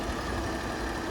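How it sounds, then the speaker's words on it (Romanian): A BMW E60 525d six-cylinder diesel idles quietly and evenly, heard as a soft, steady low rumble with no talk over the brief stretch. "motorul abia se aude, este foarte silențios, fiind un motor diesel cu 6 cilindri"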